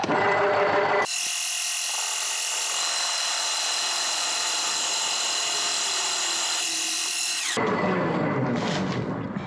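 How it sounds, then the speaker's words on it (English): A power drill whines at a high, steady pitch as it bores a hole into sycamore wood for a bowl, starting and stopping abruptly, with louder mechanical noise before and after. "So we're going to go and drill a hole in it."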